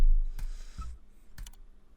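A few sharp computer keyboard keystrokes as the word candle is typed, quick close clicks in two small bursts with a quiet gap between, no voice present.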